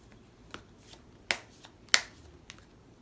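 Oracle cards being shuffled and drawn during a tarot reading, heard as a few sharp, separate card snaps and flicks spaced about half a second apart, close and fairly quiet, with no talking.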